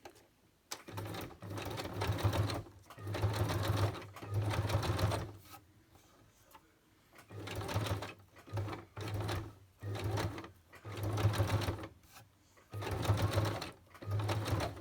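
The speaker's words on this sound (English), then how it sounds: "Maybe I should stitch around this bodgy button." Sewing machine stitching around a button on cardboard, running in repeated bursts of rapid mechanical chatter separated by short pauses, close and clear with no speech.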